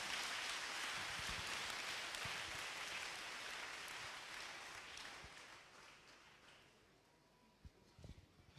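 A church congregation applauds in a dense, steady wash of clapping that gradually thins and fades, leaving a few scattered claps and faint sounds at the end.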